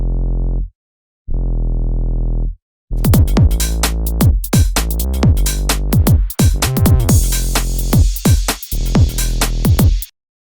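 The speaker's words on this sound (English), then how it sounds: "So this one's just a Y2K sub bass." Deep, heavy sub bass notes pulse in short sustained blocks, then continue under a busy, punchy beat with crisp percussion hits.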